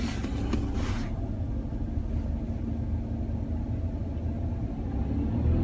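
Car engine idling then held at higher revs during a diagnostic check of fault codes, a steady close mid-pitched hum and rumble after a brief burst of mechanical clatter at the start.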